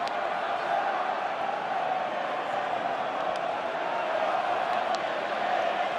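A dense crowd of Salford rugby league fans roars steadily through a stadium during a 2017 Challenge Cup semi-final against Wigan, with a constant loud wash of cheering and no clear peaks.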